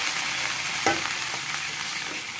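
Tempe and winged bean stir-fry with shrimp paste sizzling steadily in a frying pan, a spatula briefly scraping through it partway, close and continuous with no voices.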